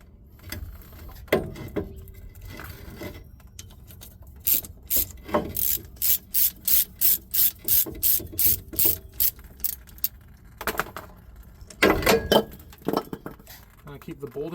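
A ratchet wrench clicks steadily while undoing a brake line fitting on the caliper of a 1996 Ford F250 7.3L Powerstroke diesel, with a long run of rapid, close pawl clicks and bursts of metal clinks and handling noise, alongside speech.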